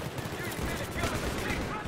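P90 submachine gun fire in the Battlefield 3 video game, a steady dense burst of rapid shots lasting throughout, with game ambience underneath.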